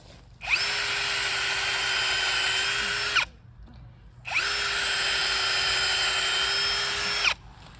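A cordless power drill bores holes into a tree trunk for herbicide treatment, two sustained high whining runs of about three seconds each, separated by a short pause, loud and close.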